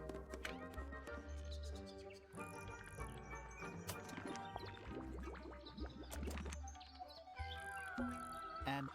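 Bright, tinkly bird chirps flutter over a busy, synthetic musical backdrop in the video game Tangle Tower, steady and fairly quiet, with no voices.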